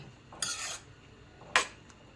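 A spoon stirs thick horse gram flour curry in a cooking pot, giving two brief scraping clinks against the metal with a quiet pause between them.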